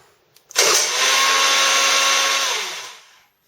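A Vespa scooter's electric starter whirs for about two and a half seconds without the engine catching, a loud steady whine with a faint tonal hum, likely from a sticky Bendix gear, then winds down to silence.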